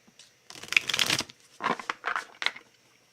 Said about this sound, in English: They get other individual card pulls.